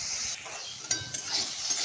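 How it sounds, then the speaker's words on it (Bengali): Eggplant frying in hot oil with nigella seeds and dried red chili, a steady close sizzle with a couple of sharp utensil clicks partway through. "আমি কালো জিরা সম্বার আর শুকনো লঙ্কা সম্বার দিয়ে বেগুনটাকে ভেজে নেব"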